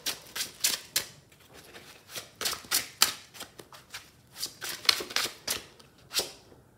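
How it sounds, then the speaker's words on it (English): Tarot cards are shuffled by hand in a rapid series of crisp papery riffles and snaps, each burst followed by a brief pause, close and clear with no voice. "I'm going to shuffle before I start channeling and everything."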